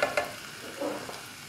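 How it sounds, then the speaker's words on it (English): Tomatoes stirred in a cooking pan with herbs and spices for baked zucchini, giving a few soft scraping strokes with light sizzle, close and fairly quiet, no voices. "Just give it a quick stir."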